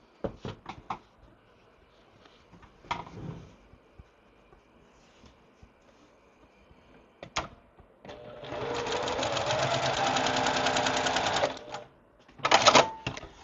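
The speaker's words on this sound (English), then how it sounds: "We're going to sew our E and K together" A sewing machine stitches quilt block pieces together for a sampler basket block, running in one steady whirring burst of several seconds between scattered handling clicks and fabric rustles, close and fairly loud.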